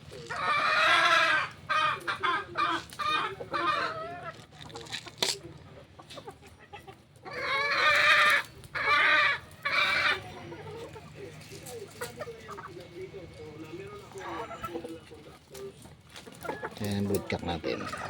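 A black-skinned broodcock hen clucks and calls in repeated close bursts, with other fowl in the background and a person speaking at intervals between the calls.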